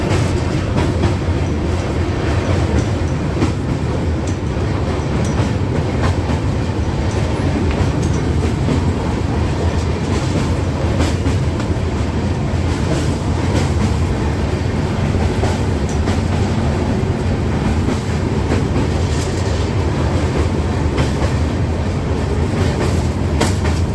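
A passenger train on a forest route toward Alipurduar Junction rumbles loudly and continuously from inside the carriage, with steady rattling and faint clickety-clack of the wheels throughout.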